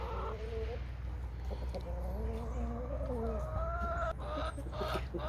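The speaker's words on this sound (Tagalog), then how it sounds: "Ang dami ng mga manok ko, mga 1-year-old na ang mga ito." Year-old backyard chickens cluck and murmur steadily as they feed, several birds close by with overlapping calls over a constant low hum.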